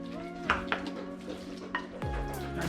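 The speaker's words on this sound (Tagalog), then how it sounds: "Haluin lang natin siya para ho magsama-sama sila." A utensil stirs a pork embutido meat loaf mixture, producing a few scrapes and clinks against the bowl over a steady low background hum.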